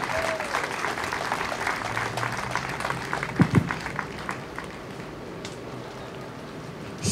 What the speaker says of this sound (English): just give them a hand of applause for their courage